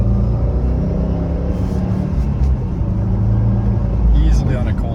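Subaru STI engine pulls hard under boost in SI Drive mode on a cold day, a steady loud rumble building smoothly inside the cabin while someone talks over it.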